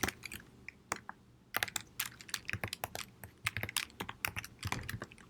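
Rapid clicking keystrokes on a computer keyboard as an email address is entered into a login form, close and clear, in uneven bursts with short pauses.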